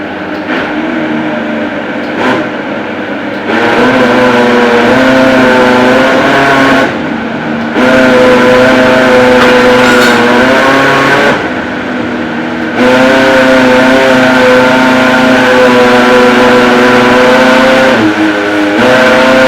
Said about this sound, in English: Then take it down to the blender to smooth